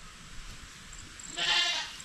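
Young goats on a Philippine provincial farm bleat loudly near the microphone, one strong, wavering cry rising late over a quiet farmyard with faint background noise.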